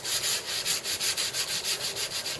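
Coarse sandpaper rubs rhythmically along a wooden walking stick in quick, even back-and-forth strokes, a loud close scratchy rasp repeating about four times per second with no talking.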